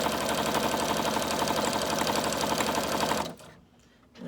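A sewing machine runs a steady rapid back stitch through fabric for a junk journal cover, loud and close for about three seconds before stopping abruptly.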